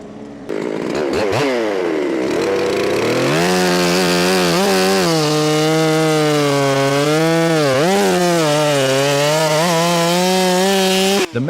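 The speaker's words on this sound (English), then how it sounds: "A worker in the deep forest used a chainsaw to cut down the trunk of a pine tree." A chainsaw cuts into a pine tree trunk in a forest, starting up with a brief rev and then holding a loud, steady, close whine as the blade bites through the wood, with a short dip in pitch partway through.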